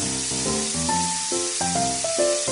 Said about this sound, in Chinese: 管他，我都煎条烂鱼给你